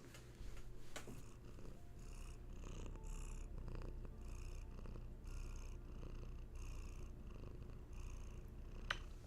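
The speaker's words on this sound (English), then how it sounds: "you always know to purr into the microphone" A cat purrs close and steady, a soft rhythmic rumble pulsing with each breath, with no talking.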